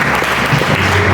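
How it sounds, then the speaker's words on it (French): A congregation at a church worship service claps together in a dense, steady burst of applause, close and loud, for a brief moment without speech. "Applaudissez le Seigneur"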